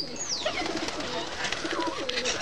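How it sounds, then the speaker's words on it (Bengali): Pigeons coo close by after landing on a loft following a flight, soft throaty calls mixed with a brief whistling flutter and faint rustling, with no talking. "এরপরে কবুতর ফ্লাইং করে ওই বামে ল্যান্ড করে"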